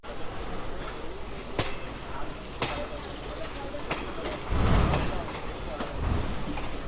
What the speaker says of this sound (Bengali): আমরা এখন প্রবেশ করছি শিয়ালদা রেলওয়ে স্টেশন